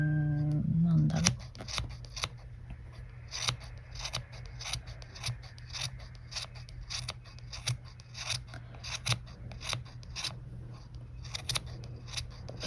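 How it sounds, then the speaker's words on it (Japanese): Scissors snip a yarn pompom into shape in a steady run of crisp, close cuts, each one a short bright click repeating at an uneven rhythm, with a low steady hum underneath. "ハサミが行くべき方向が勝手にわかるっていうか"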